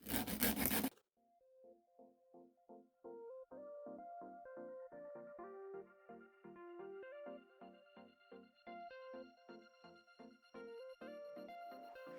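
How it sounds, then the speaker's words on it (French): A brief burst of harsh rasping at the start, then quiet, rhythmic scraping strokes continue evenly, close and soft, as a nail file shapes acrylic nails. "je fais toutes mes étapes de limage"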